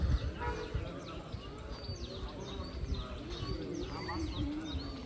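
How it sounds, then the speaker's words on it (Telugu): Birds sing and chirp near Kukke Subramanya temple, with repeated short calls and coos over a steady outdoor background and some nearby voices. "ఇక్కడైతే పక్షుల సౌండ్ ఇవి వింటుంటే మాత్రం ఎంత బాగుందంటే అంత బాగుంది"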